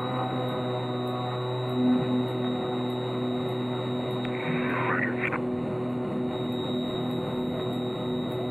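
An Aerostar twin-engine airplane holds a steady droning engine hum in the cockpit as it readies for takeoff, a low continuous tone with faint tonal overtones and a brief radio-like burst partway through.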